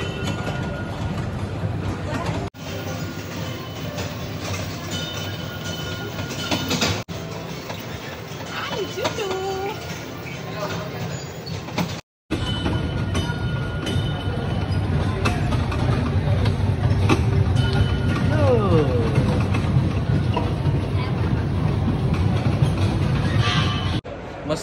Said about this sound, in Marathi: मस्त ट्रेनची सफारी केली.